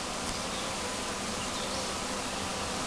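Worker honeybees buzzing inside an opened hive, a dense, continuous, even drone of many insects close by with no breaks.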